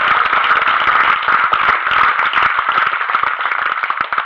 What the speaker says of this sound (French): Elle n'en a pas qu'une, on peut l'applaudir.